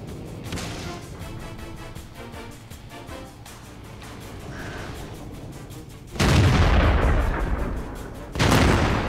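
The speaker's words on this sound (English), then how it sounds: "Shots are going off" Tank cannon fire in World of Tanks on the Ensk city map: quieter distant battle rumble, then two loud, close booming shots that ring out heavily, the second a little after the first.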